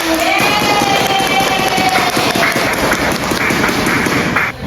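Audience applauding group 1 in a classroom presentation session, with loud, dense clapping that runs continuously for several seconds and then cuts off abruptly near the end.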